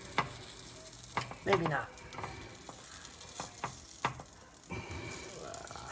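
Poffertjes, small Dutch mini pancakes, sizzle and fry in a pan while batter is stirred and poured, with scattered clinks and scraping over a steady frying hiss; a voice speaks briefly.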